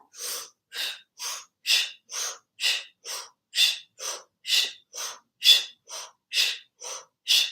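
Forceful yoga breathing exercise: about sixteen sharp, rhythmic nasal exhalations in a steady, quick pulse, close and loud, with no talking.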